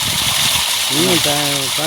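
A 5 hp, 2.5-inch solar-powered water pump on a farm sends out a steady, loud gush of water that runs through the whole clip, while a voice speaks over the top of it.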